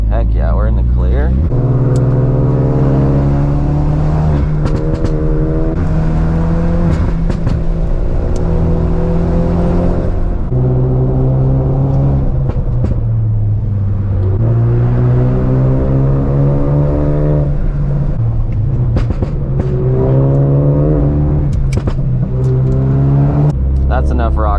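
A modified Ford Focus RS engine hums and rises in pitch through repeated gear changes, accelerating steadily along a canyon road, with people talking over it.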